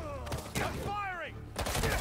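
Gunfire from armed thugs in Marvel's Spider-Man 2: sharp bursts of shots at the start and a louder volley near the end, with a voice talking in between.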